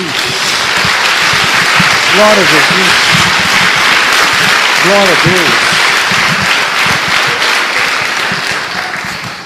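A church congregation applauds loudly and continuously for Jesus, a close, dense roar of clapping with voices calling out praise over it twice.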